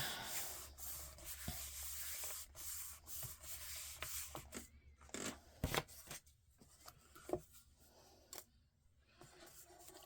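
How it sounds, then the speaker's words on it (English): Paper craft piece from an autumn-themed stamping kit being rubbed by hand for texture, giving soft, close scratchy rustles and brief swishing strokes at an uneven pace, with a few sharper taps and handling noises. "I'm going to give it a little rubbing"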